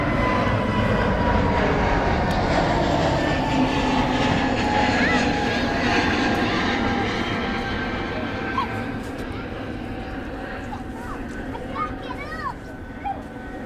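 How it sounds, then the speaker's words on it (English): A British Airways Airbus A320 takes off at Manchester Airport on the morning shuttle to Heathrow. Its loud, steady jet roar fills the scene and slowly fades, with faint chirps high above it. "Here goes the British Airways Airbus A320 operating this morning's shuttle down to"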